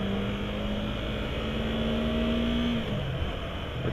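A 2015 Yamaha R3 motorcycle pulls away from a stop, its engine note steady and rising slightly in pitch before easing off, heard up close over continuous road and wind roar with no talking.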